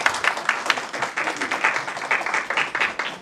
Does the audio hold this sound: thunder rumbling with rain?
no